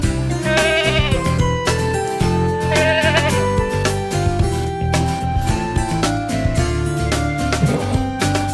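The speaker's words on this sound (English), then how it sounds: "Baby goats, called kids, are energetic and playful." Baby goats, called kids, bleat repeatedly in high wavering cries amid a busy farmyard chorus of overlapping animal calls, close and loud throughout with no pause.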